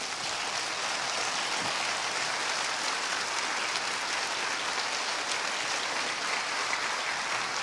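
A church congregation applauding during a Portuguese-language worship service: a continuous, even wash of many hands clapping, fairly distant and soft, unbroken for several seconds with no voices standing out.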